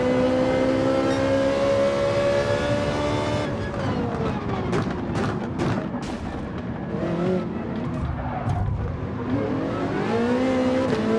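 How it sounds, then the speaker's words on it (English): A Dodge Viper GT3 race car in Gran Turismo 7 drones at a steady high engine pitch, then shifts and revs with rising and falling tones, tire noise and brief scuffs, loud and close. "Oh, Dodge Viper driving into me."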